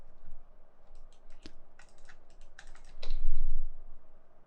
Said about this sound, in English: So I'm hitting R on the keyboard